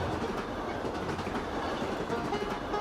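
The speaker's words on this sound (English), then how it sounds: "And I think there goes the train." A short train rolls past in the video game Ira, a steady close rumble with faint rhythmic clatter filling the whole moment.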